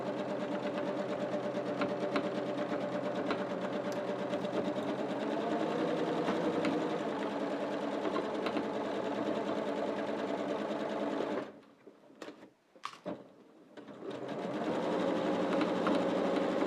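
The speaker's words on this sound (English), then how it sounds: "make sure your sewing machine is able to handle a little bit of bulk" A sewing machine hums and stitches steadily through bulky woollen fabric for a long run, stops briefly with a few clicks, then starts stitching again.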